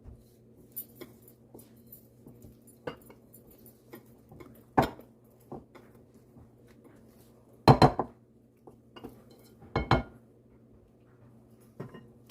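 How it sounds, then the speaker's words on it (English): Muffin batter for banana blueberry muffins is scraped down the sides of a bowl in sparse, separate strokes, with a few louder clattering knocks of utensil against the bowl over a low steady hum. "Just scrape the bowl down some."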